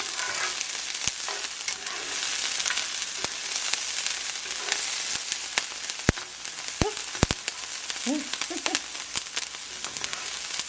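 Peppers sizzling in a pan over low heat for shrimp chile verde: a constant bright frying hiss with sharp spitting pops and a few brief utensil clinks, close by and without voices.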